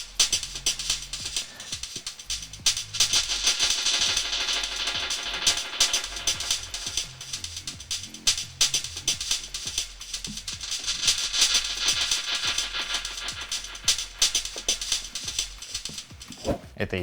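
Effects from the built-in Perform FX on a Native Instruments Maschine MK3 groovebox, processing a dense electronic beat with steady pumping bass and a hissy, filtered top end that swells and sweeps across the loop, playing alone.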